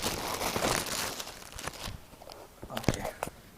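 Plastic bag around a pair of Calvin Klein shoes crinkles and rustles during unboxing, a dense close crackle at the start easing into sparser crisp crackles and taps.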